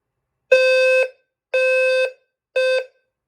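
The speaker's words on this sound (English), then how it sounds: "the sounder base briefly goes off again and then shuts right back off" A Fire-Lite MS-9600UDLS fire alarm sounder base sounds three loud, clear electronic tones, the first about half a second long and the next two shorter, with brief silences between them and nothing else audible.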